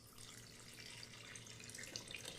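Tap water runs steadily into a kitchen container for a cup and a half of water while cooking Instant Pot chicken tinga, a continuous close hiss with no talk.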